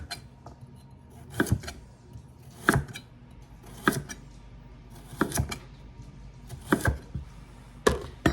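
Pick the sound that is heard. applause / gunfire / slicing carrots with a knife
slicing carrots with a knife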